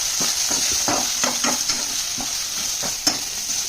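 Brinjal curry with turmeric and chilli powder being stirred and fried in a pan, a bright continuous sizzle overlaid by repeated spatula scrapes in an uneven rhythm, ending with one sharper knock, close and without talking.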